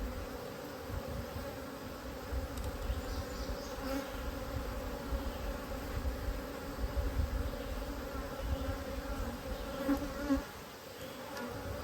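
Slightly agitated honey bees buzz at a rescued hive, a close, steady droning hum that swells a little in intensity, with no voices.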